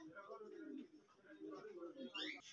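Fancy pigeons at a pigeon farm cooing in low, throaty rolls, close and moderately loud and nearly continuous, with a brighter flutter of sound near the end.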